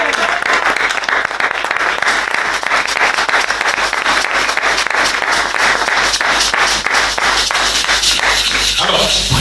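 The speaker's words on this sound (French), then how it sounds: "Une offrande d'acclamation au Saint-Esprit." A church congregation at a Sunday service claps and cheers in a loud, sustained ovation, dense applause filling the room throughout with voices mixed in.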